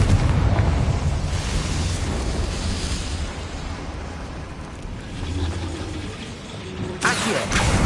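A Confringo fire spell bursts in Hogwarts Legacy, a dense roaring blast that rumbles on for several seconds, followed by a sharper second impact near the end, loud and close with no talking.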